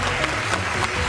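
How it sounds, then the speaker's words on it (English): Brief burst of dense audience applause on a game show, a full even wash of clapping with a few sharper claps standing out, cut short after about a second. "Give yourself a round of applause."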